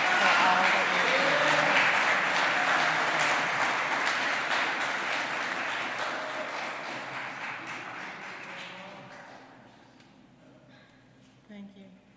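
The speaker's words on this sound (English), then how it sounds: "Please join me in giving a well-deserved round of applause to Sandra Sutherland." Audience applause at an Albany Common Council Black History Month celebration, a steady wash of many hands clapping that slowly fades over about ten seconds, ending with a brief murmur of voices.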